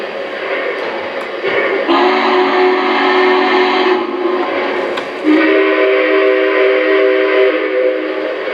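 Toy train whistle sounding in two long steady blasts over a whirring toy-train background, the second blast slightly lower and longer, fairly loud and close.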